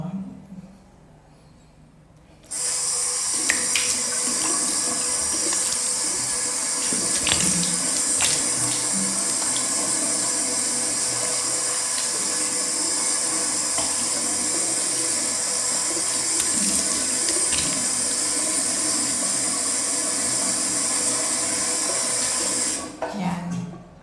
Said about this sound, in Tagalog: Tapos, babanlawan ko na yung sabon na binabad ko.